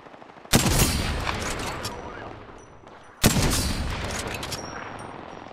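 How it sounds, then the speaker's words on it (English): Two loud gunfire bursts ring out in the Apex Legends battle royale game, each sharp onset trailing off into a long echoing rumble, about three seconds apart. "Firing."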